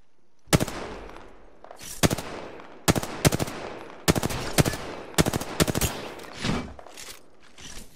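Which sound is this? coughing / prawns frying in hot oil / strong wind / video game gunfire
video game gunfire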